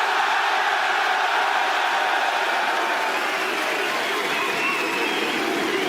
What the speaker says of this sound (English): Who's cheering for Team Secret today?